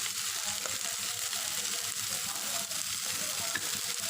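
Onions and spices such as turmeric sauté in a pan with a steady, even sizzle and crackle that runs unbroken throughout at moderate, close volume.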